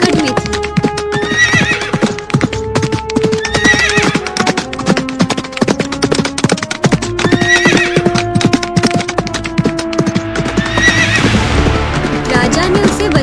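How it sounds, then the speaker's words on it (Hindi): A runaway horse gallops hard with rapid clip-clopping hooves and loud repeated neighing and whinnying, close and driving, over a dramatic musical backdrop. "एक राजकुमारी का घोड़ा पागल होकर भाग रहा था"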